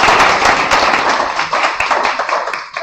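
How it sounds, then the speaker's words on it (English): A brief burst of clapping from a small group, close and fairly loud, with uneven sharp claps throughout. "a big round of applause"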